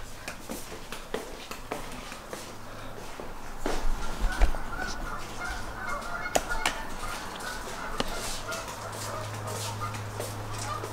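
Geese honk in a countryside setting with rolling hills, calls scattered through busy ambient noise alongside barking-like sounds, moderately distant with no talking.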